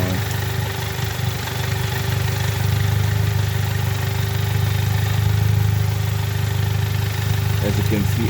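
A DSG7 seven-speed dual-clutch gearbox, tested without its mechatronics unit, spins as clutch 2 is activated, giving a steady close droning hum that holds throughout with slight swells.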